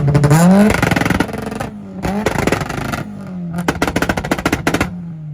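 A Mitsubishi Evo revving hard at a two-step rev battle, loud engine climbing and dropping in repeated bursts, ending in a rapid machine-gun-like crackle of two-step pops.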